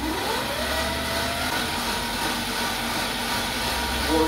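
A servo motor upgrade on a Vevor 8x14 mini lathe running up after power-on, a steady loud whine and hum that holds level throughout, with no voices.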